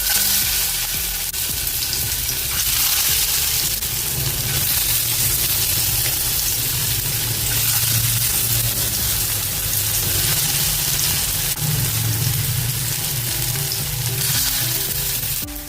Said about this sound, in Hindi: सुनहरी और करारी होने तक इसको अभी हम तलेंगे। मैं सेलो फ्राई कर रही हूँ